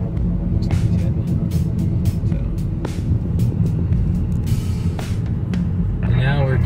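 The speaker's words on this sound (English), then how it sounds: "Here's that truck coming out. It's next to us." A truck passes close alongside on a road near the abandoned Jefferson Proving Ground army site, a loud steady engine rumble filling the clip with a brief hiss near the end.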